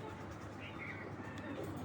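A female racing pigeon coos softly and faintly in a quiet loft, low murmuring calls blending into steady background hiss.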